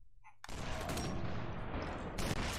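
Gunshots from the Sniper Elite 4 video game, a sudden loud volley of gunfire that erupts after a brief quiet and keeps rattling, with a sharp extra burst near the end.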